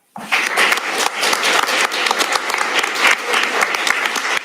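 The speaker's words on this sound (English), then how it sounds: "So I want to give her a round of applause for that." Applause breaks out suddenly at a state bar swearing-in ceremony for a new president, dense and loud crowd clapping that holds steady throughout.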